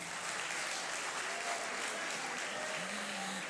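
An audience at a late-night Urdu mushaira in Khushab claps in sustained, dense applause at a steady level, with a faint voice briefly audible beneath.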